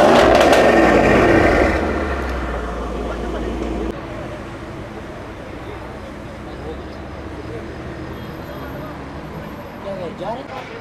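A Mercedes E63 gives a loud, close exhaust blast at the start, which eases into a lower rumble that fades under ongoing talk.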